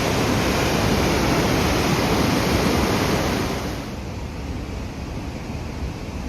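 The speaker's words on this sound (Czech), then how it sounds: "Jeden z menších vodopádů." A small waterfall in Norway gives off a steady, loud rushing roar of falling water, heard up close and continuous, softening somewhat partway through.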